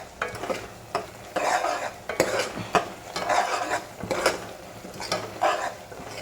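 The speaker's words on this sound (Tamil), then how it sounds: "இந்த இஞ்சி பூண்டு பேஸ்ட்டு வந்து பச்சை வாசனை போகிற வரலும் நல்லா எண்ணெய் பிரிகிற வரலும் இந்த மாதிரி வதக்கிக்கலாம்." Ginger garlic paste sautéing in oil, with a steady sizzle and repeated close scraping strokes of a spoon against the pan in an uneven rhythm.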